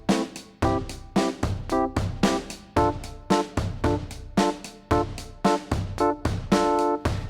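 Keyboard chords in a minor key played as a steady progression, each chord struck firmly and ringing briefly before the next, loud and clear with no voices.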